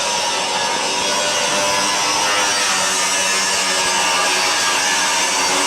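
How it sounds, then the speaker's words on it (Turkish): Machines and an angle grinder run together in an industrial workshop at a small-industry site, a continuous loud, dense grinding whine held at an even level throughout. "şu sıralar makine ve spiral seslerinden başka ses yükselmiyor"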